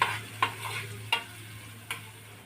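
Finely chopped onion fries in a pan with dried red chillies and curry leaves, a faint steady sizzle broken by three or four sharp scrapes of a spoon stirring, with no talking.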